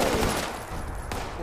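Gunfire in the video game Fallout 76, a dense burst of rapid shots that fills the short stretch at steady loudness, with no voices over it.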